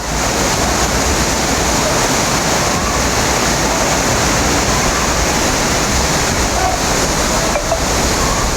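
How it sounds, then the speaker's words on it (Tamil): Flood water swollen by heavy rain roars down Panchalinga waterfall, surrounding the temple at its foot; a loud, unbroken wash of rushing water fills every moment without a break. "பஞ்சலிங்க அருவிக்கு நீர்வரத்து அதிகரித்து அடிவாரம் பகுதியில் உள்ள கோவிலை இரவு 7 மணியளவில் வெள்ளம் சூழ்ந்தது"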